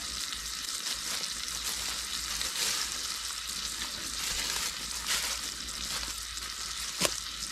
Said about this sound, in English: Turn it up on the side and sear that fat a little bit.